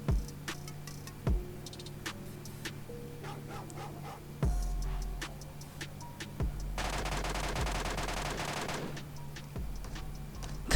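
MK14 rifle shots in a shooting video game, sharp single reports spaced a couple of seconds apart over quieter ticking game sounds, with a dense burst of noise partway through.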